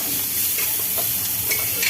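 Steady sizzling and crackling of onions, curry leaves and spices sautéing in a hot pan, close and continuous, with occasional soft pops and no voices.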